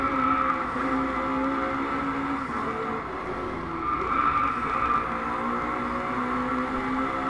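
A rear-wheel-drive McLaren 650S races on a track in the Driveclub video game, its engine roaring steadily and loudly with continuous tire skidding and squeal throughout, no voices present.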